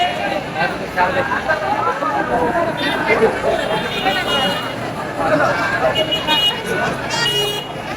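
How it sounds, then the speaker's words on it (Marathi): A dense crowd of pilgrims at Pandharpur on Ekadashi fills the air with continuous babble and chatter, with distant vehicle horns and traffic, while a voice speaks close over the din. "या एकादशीची पंढरपूरमध्ये गर्दी किती झाली की बघा"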